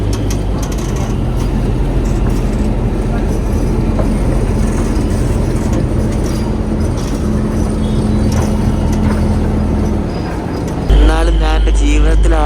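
A toy train on a narrow-gauge railway between Waghai and Bilimora rumbles along steadily with a constant loud roar of wheels and carriages, ending with a heavier clatter and shifting tones as it nears the junction.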